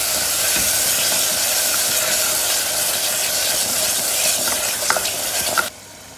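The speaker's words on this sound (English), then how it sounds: "I have sauteed this curd well now." Curd being sauteed in a khichda gravy, a steady close sizzle with a hiss of steam and a few scraping stirs near the end before the sound cuts off, with no talking.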